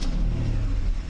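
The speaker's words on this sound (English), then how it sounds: "I also start the vehicle now, so you can see that they actually work when the engine is running." A Mercedes 600SEL engine runs steadily at close range, a low rumble with a slight rise as it revs, no voices over it.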